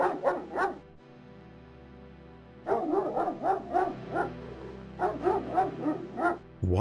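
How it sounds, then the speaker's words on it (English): A shadow dog in the 1994 adventure game King's Quest VII barks in two clusters of rhythmic, close barks and yips, about four to five barks each. A low droning game ambience runs under them and between them. "then that shadow dog appeared"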